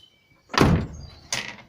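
A door on a Starcraft camper shuts with a solid close thud, followed by a second lighter knock of the latch or door a moment later, with no talk.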